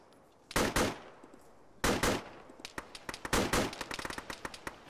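Gunfire from a military video game: two loud bursts of rapid shots, then a long run of sharp single and clustered shots, all close and without talk.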